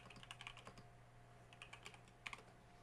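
Quiet typing on a computer keyboard: irregular bursts of soft key clicks with short pauses between them, close up over a low steady hum.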